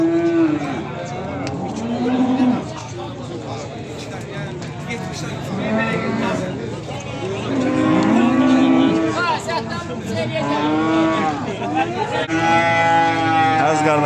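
Angus cattle at a livestock market in Beylagan, with several low moos rising and falling throughout under steady close-up talk and crowd noise.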